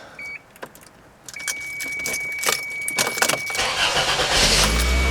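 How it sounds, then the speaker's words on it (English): A car engine cranks and catches just after an oil and filter change, preceded by jangling keys and clicks, then settles into a steady close idle with no talking. "now let's start up and check for leaks"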